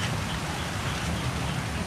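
Pangon ducks, free-ranging flock raised for eggs, kept near a riverbank and rice paddies, give a steady dense chorus of quacking that fills the whole stretch with no pause, loud and close, over a rough outdoor background.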